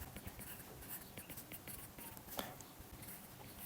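A pen or marker scratches across a board in an analytical chemistry lecture, its short strokes and taps faint and close, with no talk over them.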